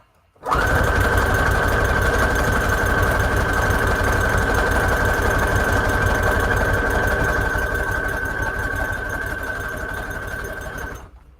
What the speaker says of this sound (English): I'm just going to sew this up right here real quick with just a zigzag stitch